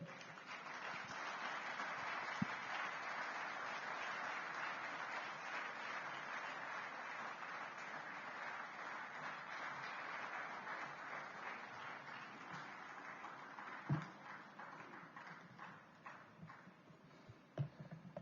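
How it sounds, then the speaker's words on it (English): Audience applause welcoming speaker Brian Kagoro at a governance and democracy forum, a long, steady wash of clapping that thins toward the end, with a few sharp bumps and knocks. "Please welcome with a round of applause"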